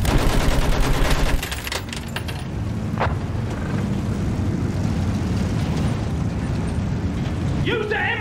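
Battlefield 1 combat with rapid machine gun fire and mechanical clatter, loudest at first and then continuing as a dense, steady rattle amid explosions and battlefield noise, with a voice shouting near the end.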